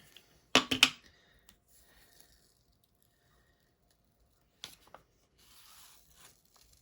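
Paper being pulled off a card and rubbed down during mixed media card making, a pair of sharp crisp peeling rustles followed later by a short tear and faint rubbing, quiet and close.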